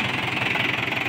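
A Mahindra 575 DI tractor engine idles steadily nearby, a low rhythmic chugging throb with a faint mechanical hum and no talking.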